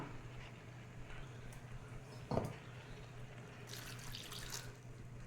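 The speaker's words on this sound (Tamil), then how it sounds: "கொஞ்சம் தண்ணி சேர்த்துக்கலாம்." Water goes into a pan of tomato and onion softening without oil for a prawn gravy: a faint, brief splash followed by a soft trickle and light watery rush, quiet overall with no talking.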